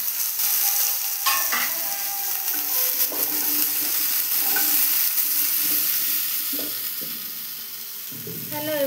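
Okra and potatoes sizzle with cumin seeds in a hot pan, a constant crackling fry broken by the scrape and clink of stirring against the metal.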